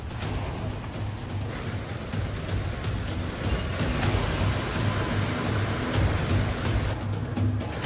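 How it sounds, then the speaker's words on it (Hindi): Heavy rain pours down during flooding in Kathua, a dense, steady roar of water that holds constant and loud for several seconds with no voices. "कठुआ में भारी बारिश हो रही है"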